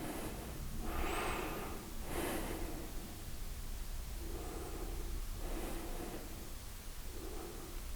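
Slow, audible breaths during a beginner yoga session, a few drawn-in inhales and exhales spaced a second or two apart, close and soft over faint room noise, with no talking.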